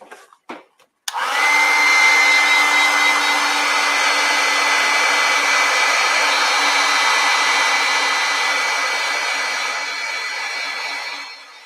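A hair dryer blows on wet watercolor paint, switching on after a few clicks and roaring steadily and loudly at close range for about ten seconds before easing slightly.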